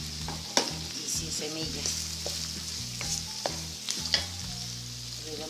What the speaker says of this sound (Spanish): Después de 2 minutos, salcochamos el pimiento, incorporamos el tomate picado